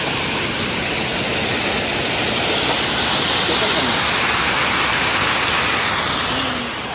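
Water rushes over a dam as a loud, unbroken roar that fills the whole scene and eases slightly at the very end.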